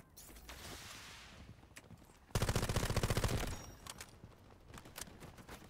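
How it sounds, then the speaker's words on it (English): Rapid-fire bursts from a G18 pistol in a shooter video game: scattered shots, then a loud, dense, fast burst lasting about a second, followed by a few more sharp single shots. "G18 is a lot of fun to use in this game"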